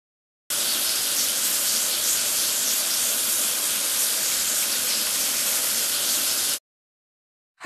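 Steady hissing water spray washing a mini bulldozer in a farm truck game, one continuous burst of about six seconds that starts and stops abruptly, with no talk.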